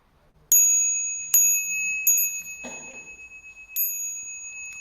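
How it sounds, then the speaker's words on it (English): Small meditation bell struck four times in a Buddhist lecture hall before bowing, each bright ringing strike sustaining and slowly fading, with a soft rustle of movement between the second and third strikes. "let's ring the bell and bow along"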